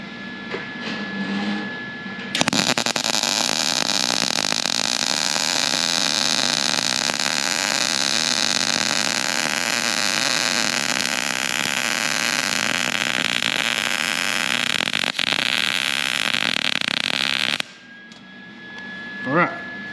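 Arc welding of round steel tubing with a J-hook weave technique, a loud, steady crackling hiss that runs without a break for about fifteen seconds, then stops abruptly.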